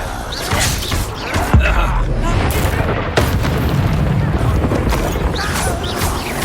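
Confringo blast spells cast in Hogwarts Legacy during the Pensieve Guardian boss fight: loud booming explosions and crashes layered over dense game sound, with a player's voice talking over the action.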